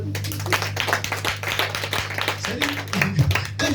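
A church congregation clapping in quick, steady rhythm to acclaim the Lord, dense and close, with voices and a low sustained musical tone running underneath.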